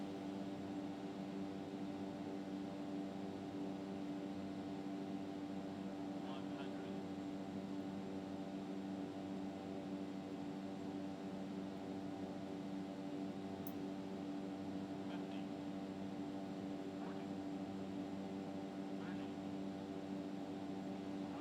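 Steady propeller-engine drone of an Epic E1000 single-engine turboprop taxiing at an airport in X-Plane 11, a constant tonal hum held unchanged throughout with a few faint clicks on top.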